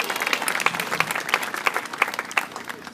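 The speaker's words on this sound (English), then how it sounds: "give her applause" Audience members at a high school marching band event clap for a flag lieutenant, with scattered, moderately distant hand claps standing out sharply over a soft crowd murmur in a steady, uneven rhythm.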